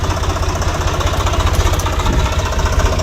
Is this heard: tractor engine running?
yes